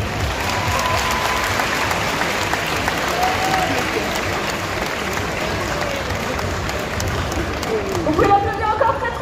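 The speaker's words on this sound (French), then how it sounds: "Vous pouvez l'applaudir encore très très fort" A convention crowd at a cosplay contest applauds a cosplayer with a thick, continuous roar of clapping that holds level throughout, and a voice and whistle-like tones rise near the end.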